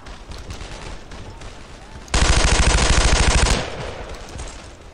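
A loud sustained burst of rapid machine gun fire in the WWII video game Brothers in Arms: Earned in Blood, lasting about a second and a half amid quieter background battle noise.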